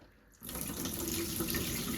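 Tap water runs into a bowl of Bambara nuts being washed, starting after a brief quiet moment and then a steady, close, loud rush of filling water.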